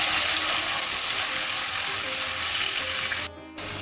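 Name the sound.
mutton frying with golden brown onions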